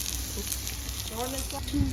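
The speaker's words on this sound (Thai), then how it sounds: "เมนูแรกสเต็กกระทะร้อน คือมันร้อนจริงๆ คนมาก กระทะร้อนมาก" A bone-in beef steak sizzles on a very hot plate, a steady close crackling hiss running throughout while people talk over it.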